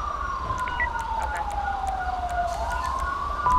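An ambulance siren in the video game GTA V wails with a single falling-then-rising tone while responding code 3. A faint radio-style voice sits under it, and a low vehicle rumble runs beneath.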